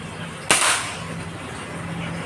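A single sharp crack from a Marauder air rifle firing an SW Family pellet, close and fairly loud, followed by a brief fading tail against quiet background hum.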